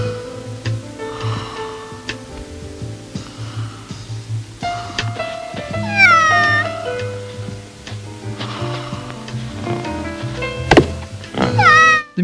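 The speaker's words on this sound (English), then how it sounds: "Philip Marlowe is bored in his apartment, trying to feed his cat something it likes" A cat meows several times in an apartment scene from the film The Long Goodbye, short whiny cries scattered among thumps and household clatter, close and fairly loud with no talk.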